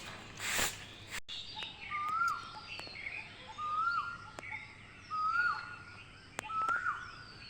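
A koel calls over and over in rising whistled notes, four or five repeated phrases spaced through the morning air, mid-distance, with other faint birds and a brief sharp noise near the start.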